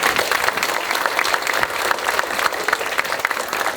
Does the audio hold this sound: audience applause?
yes